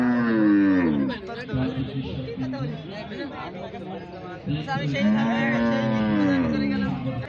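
A cow moos in long, drawn-out calls, loud and close, with a crowd chattering and murmuring throughout at a livestock exhibition in Alamdanga.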